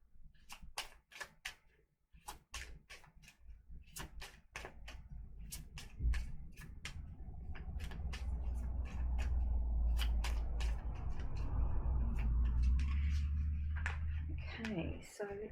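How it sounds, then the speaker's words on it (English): Oracle cards being shuffled and pulled, with a rapid run of sharp riffling clicks, then a softer, broader rustle building and fading near the mic. "let's just pull a couple of oracle cards and see how we go."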